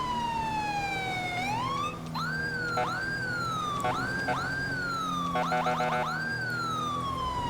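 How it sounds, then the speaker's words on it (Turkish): A loud police siren in the video game GTA 5 sweeps up and down in a wailing pattern, then switches to rapid yelping bursts, over a steady low engine hum. "Kime çalıyor sireni?"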